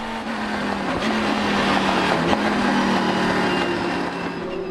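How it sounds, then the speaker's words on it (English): A Viper and a Ferrari GT race car roar past at the Nürburgring in a Supercar Challenge GT race, loud engines revving and shifting up as they climb a hill, with no talk. "Philip Ribbons all over Bert Longchain, using the big power of that Viper engine to close up the hill on the Ferrari"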